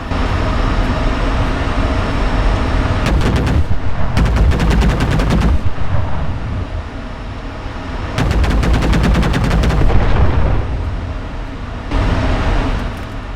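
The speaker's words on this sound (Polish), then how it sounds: "ostrzał z działek kalibru 30 mm z amunicją wybuchową" An Me 262 jet in the Enlisted video game fires its 30 mm cannons with explosive rounds: several loud rapid bursts of heavy autocannon fire over a constant roaring engine drone, with no voices.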